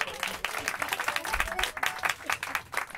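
A group claps steadily and fairly close for a casual gathering with music nearby, the dense applause continuing throughout with voices mixed into it.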